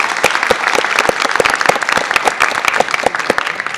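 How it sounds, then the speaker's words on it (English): A crowd at an academic colloquium applauds steadily, dense overlapping claps close by, loud and sustained throughout. "Let's have a round of applause for everyone."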